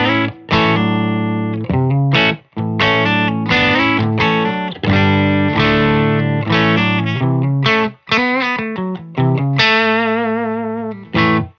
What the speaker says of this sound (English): tonight I am running a Scythe Guitars OH19 into a Benson Amps Monarch reverb, and that sounds like this.